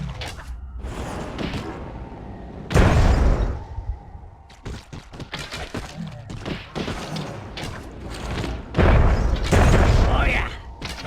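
Satchel charges in the Myth video game go off as two heavy, loud blasts several seconds apart, with scattered thumps and battle clatter between, and a voice speaking briefly in the middle.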